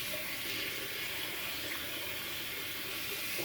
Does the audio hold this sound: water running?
yes